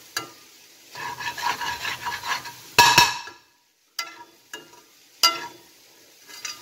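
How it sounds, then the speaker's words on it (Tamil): Grated plantain puttu is stirred and scraped in a pan over low heat. A spoon makes rhythmic rasping strokes, then breaks off into a few sharp knocks against the pan with short quiet gaps between. "நல்லா சிம்மில் வச்சு கிண்டுங்க"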